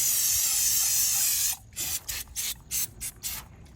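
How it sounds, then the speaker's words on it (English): Aerosol parts cleaner sprayed onto car parts during an oil change on a 2023 Volvo XC90, one long continuous hissing spray, then about six short spritzes in quick succession, close and loud. "clean these things out really good with parts cleaner"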